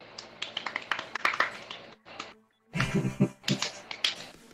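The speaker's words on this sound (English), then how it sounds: "No, that's me clapping." Rapid hand clapping comes in quick, sharp bursts, loud and close, pausing briefly in the middle before resuming at a fast pace.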